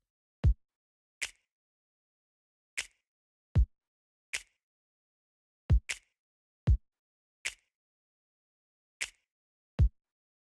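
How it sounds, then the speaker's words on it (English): A super basic pop kick drum pattern for a pre-chorus: about a dozen punchy, isolated kick hits in a steady, straight-ahead groove, alone with no other instruments. "And then bringing in a super basic kick drum over in the pre-chorus"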